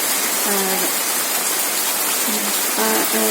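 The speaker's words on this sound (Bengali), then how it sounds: "রাত থেকেই বৃষ্টি হচ্ছে" Constant hiss of steady rain falling, loud and close, with a voice speaking briefly a few times over it.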